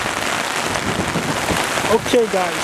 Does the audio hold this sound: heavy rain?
yes